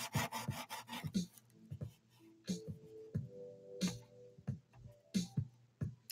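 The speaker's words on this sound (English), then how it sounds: "I'm sanding a guitar and like taking the paint off of it" Sandpaper rubs paint off a guitar body in quick rasping strokes, a rapid burst of short scrapes first, then slower separate strokes with pauses between, close and fairly quiet.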